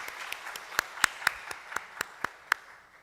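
A church congregation claps in thanks after a lecture, heard as about ten crisp, evenly spaced claps in a quiet room.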